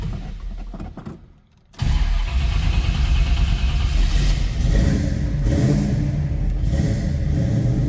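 A 1972 Chevrolet Nova two-door post coupe cranks and fires after a brief lull, then settles into a loud, steady idle that rumbles on close by with no talking.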